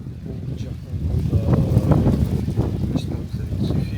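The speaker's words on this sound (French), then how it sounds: "Pas mal de vent." Strong wind gusting across a coastline at sunset in the Bahamas, a steady loud rush with buffeting against the microphone throughout.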